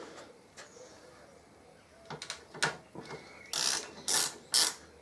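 A torque wrench ratchets while tightening new spark plugs on a 2014 Harley-Davidson Electra Glide: a few soft clicks, then loud close ratcheting bursts in quick succession near the end.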